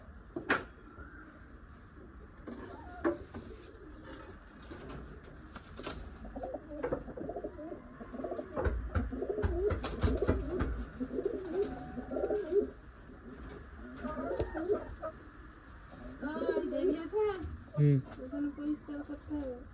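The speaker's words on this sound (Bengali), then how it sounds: "একদম ছোট্ট মাথার পায়রা" Small-headed pigeons coo in soft, repeated low calls close by, mixed with wing flutters and clattering knocks, while a person talks throughout.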